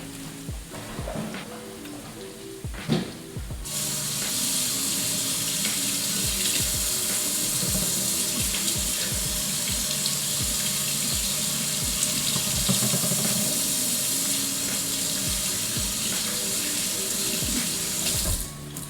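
Tap water runs steadily into a kitchen sink for hand washing after handling meat while making homemade nachos, a loud continuous splashing rush starting after a few seconds of clatter, alone without talk.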